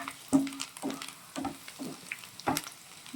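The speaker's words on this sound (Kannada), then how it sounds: "ಬ್ರೌನ್ ಕಲರ್ ಬರೋ ತನಕ ಸ್ವಲ್ಪ ಫ್ರೈ ಮಾಡಿ" Butter and garlic fry over a high flame, sizzling softly beneath repeated scrapes and stirs of a spoon in the pan, which come at a fairly even pace.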